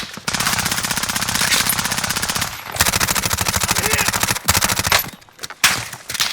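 Rapid automatic gunfire in the Warzone video game, long sustained bursts of loud, close shots with brief gaps between volleys.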